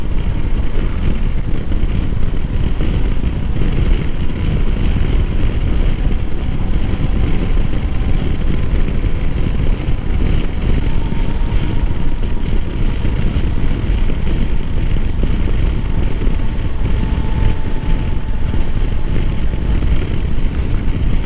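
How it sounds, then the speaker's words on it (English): A Honda Africa Twin DCT motorcycle is ridden in sport mode on a demo ride, heard as a loud, constant roar of engine and rushing wind close to the microphone, unbroken from start to end. "the bike is a lot better in this sport mode"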